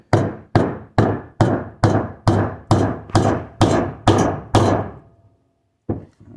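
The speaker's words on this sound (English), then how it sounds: "Take my big hammer." Ten evenly spaced, loud metallic hammer strikes in a steady rhythm tapping a seal into a Honda D15 engine, then a pause and one final blow.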